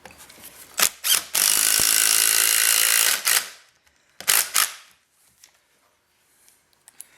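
A power drill drives screws into a walnut salad bowl blank. Short revving bursts come first, then one loud, steady run lasting about two seconds, then a few more brief pulses before the clip falls quiet.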